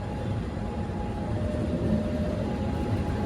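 Steady, dense rumble fills the inside of the KA Malabar passenger train, an economy New Generation stainless steel carriage, with no break or voice throughout.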